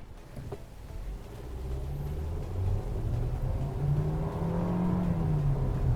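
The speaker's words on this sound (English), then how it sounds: "while it is revving all the way up to the red line" A 2021 Kia Stonic EX engine, in manual mode, revs steadily up to the redline, a continuous rising drone with rumble underneath, sustained and fairly close.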